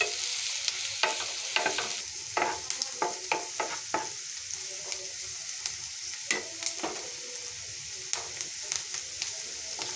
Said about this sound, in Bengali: এই দেখেন পেঁয়াজ কুচিগুলো আমি ভালোভাবে ভেজে নিচ্ছি